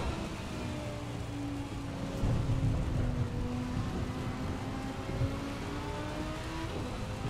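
Heavy rain falls in the racing game Assetto Corsa Competizione as a steady hiss of rainfall. It sits alongside a droning car engine whose pitch rises and sweeps, with louder low rumbles in the middle.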